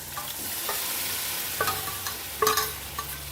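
Lentils stirred in a frying pan for a drumstick dal recipe, giving soft scraping strokes over a faint steady sizzle, with a sharper clatter near the end and no talking.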